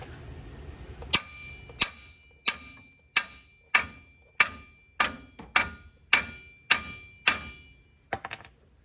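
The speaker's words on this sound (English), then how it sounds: "just give it a couple of taps with a hammer" Sharp metallic hammer blows strike a control arm near the knuckle of a GMC Savana 3500 about a dozen times at a steady, roughly even pace, each ringing briefly, close and loud.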